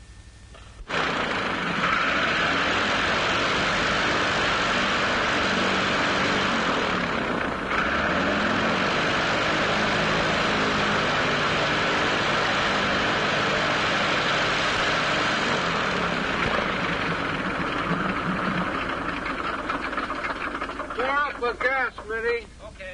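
A small propeller airplane from around 1932 runs steadily before a solo flight, its engine drone loud and continuous for nearly the whole stretch while people talk over it.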